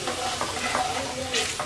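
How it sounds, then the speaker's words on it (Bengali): Potatoes sizzle in hot oil while being lifted out of the pan, a dense close frying hiss with soft scraping and a brief louder burst near the end. "আমাদের আলু ভেজে নেওয়া হয়ে গেছে, তুলে নিচ্ছি।"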